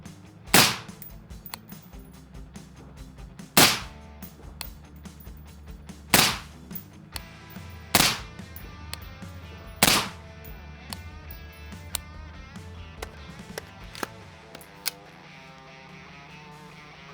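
Rifle shots ring out outdoors while a SIG SAUER riflescope is zeroed, five loud sharp reports spaced a couple of seconds apart, with smaller clicks and clanks of the rifle's action in between.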